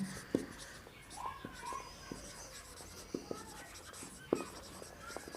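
Pen or marker writing on a surface during a Class 6 maths lesson on ascending order, with scattered light scratches and taps alongside soft intermittent speech.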